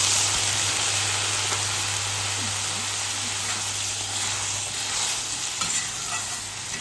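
Water poured into a pan of hilsa fish and vegetables sets off a continuous loud hiss and sizzle that holds steady throughout, close up with no voices.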